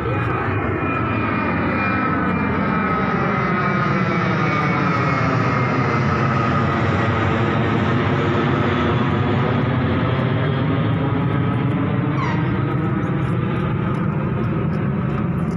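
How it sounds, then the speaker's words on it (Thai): A fixed-wing airplane engine roars loud and steady beside Udon Thani airport in Thailand, a continuous jet-like drone with a slowly shifting pitch as the aircraft passes nearby. "เราอยู่ติดสนามบินอุดรด้วยนะครับผมก็เลยมีเสียงเครื่องบินนะครับ"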